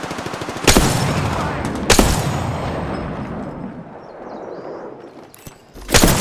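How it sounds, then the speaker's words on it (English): Gunfire in the Apex Legends video game, with sharp loud shots in separate bursts over a constant dense rattle of distant shooting and game noise. "Shots fired and they're hitting me."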